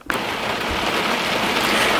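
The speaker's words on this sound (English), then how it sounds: "I'm in my car and it is raining." Rain drums steadily on a car, heard from inside as a dense, loud, even hiss with a soft thump at the start, continuing without pause and with no voices.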